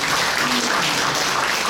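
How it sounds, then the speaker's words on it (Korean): Steady applause from a symposium audience of Catholic priests and guests welcoming panel speakers, a dense even patter filling the room throughout without pause. "큰 박수 모시겠습니다"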